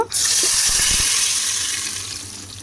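Tap water running at a home kitchen sink while dishes are washed, a steady broadband rush that starts abruptly, stays loud and fairly even, then slowly fades a little, with faint clinks of utensils near the start and no talking.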